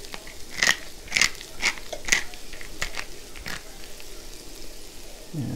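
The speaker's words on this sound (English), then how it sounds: "And a little pepper. Grind up. I love this little portable grinder." A small portable pepper grinder cracking peppercorns in a short series of sharp, crunchy grinds, close and fairly quiet, with a few separate bursts and no speech.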